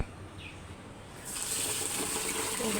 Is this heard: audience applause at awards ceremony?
no